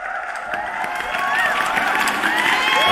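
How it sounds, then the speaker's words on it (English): A crowd cheers and applauds in a steady, dense wash of claps, whoops and shouts that swells slightly toward the end, fairly loud and continuous with no clear speech. "Let me give him a round of applause."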